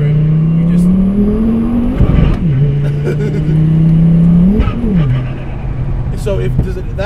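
A modified Volvo S60 T5, a four-wheel-drive car, revs hard through its gears, engine pitch climbing then dropping with each shift, loud and close, while people talk over it.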